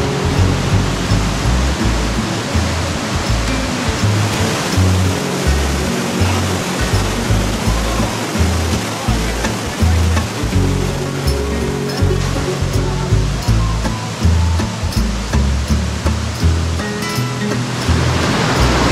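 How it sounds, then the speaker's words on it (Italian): A powerful river plunges into a waterfall near Jasper and Banff, a loud, continuous roaring rush of crashing water with deep low rumble throughout. "E qua, ragazzi, è dove il fiume scompare dentro questa cascata. Una potenza incredibile."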